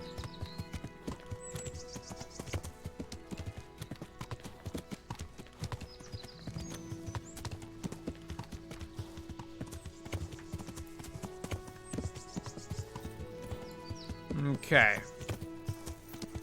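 In Kingdom Come: Deliverance, a horse's hooves clip-clop in a steady trotting rhythm on the path, with a short whinny near the end, while someone talks briefly over the game sound.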